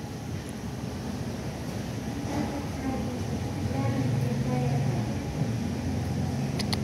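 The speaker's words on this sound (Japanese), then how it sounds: "あの奥が電車来てます" A distant train draws closer, a low rumbling hum that swells gradually and grows louder toward the end, with a faint high squeal near the close.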